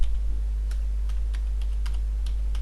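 A Linux command is typed on a computer keyboard: a string of light, irregular key clicks over a steady low electrical hum.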